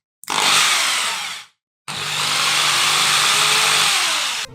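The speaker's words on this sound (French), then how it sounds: "Là, on a la perceuse. On va percer la pomme de terre." Electric drill whirring at full speed with a potato on its bit, one short loud burst, a brief stop, then a longer steady high-pitched whine.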